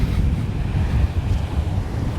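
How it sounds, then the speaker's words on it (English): Atlantic Ocean surf rolls in at Juno Beach, Florida, near the pier: a continuous low wash of waves mixed with gusty wind buffeting the microphone, with no voices. "we got the Atlantic Ocean here"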